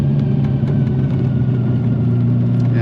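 A TVR Cerbera V8 British sports car on the move, its engine holding a loud, steady, throaty drone close by for the whole stretch, with no voices over it.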